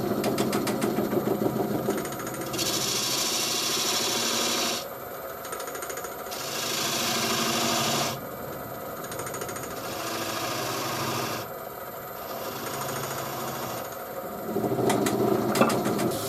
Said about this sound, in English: I'm just going to burnish it off now with some shavings I have on the floor